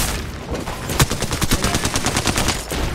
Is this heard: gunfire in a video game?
yes